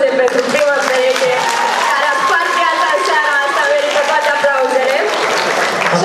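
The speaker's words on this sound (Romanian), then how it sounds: "Aplauze pentru prima pereche." An audience at a school freshman ball applauds the first couple, with sustained clapping and crowd noise mixed with loud music and some voices throughout.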